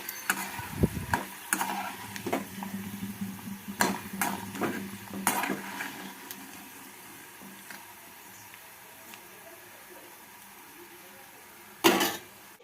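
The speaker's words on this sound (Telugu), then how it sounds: "ఆయిల్ వేసుకొని ఆయిల్ మరిగిన తర్వాత వడియాలు వేయించేసుకోవడమే చాలా త్వరగా కూడా వేగిపోతాయి" Rice rava vadiyalu with ajwain fry in hot oil, giving a soft sizzle under irregular clinks and scrapes of a utensil against the pan, which fade to quieter frying before a final sharp clatter.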